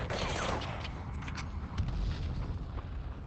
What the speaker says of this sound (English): but I do hear some gunfire